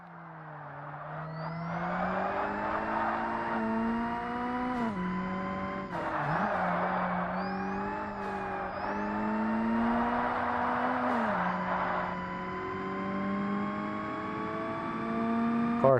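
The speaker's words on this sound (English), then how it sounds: "Car sounds good, feels good" A race car engine in Forza Motorsport on original Xbox roars steadily at high revs, pitch dipping and climbing through gear changes, loud and continuous with no talk.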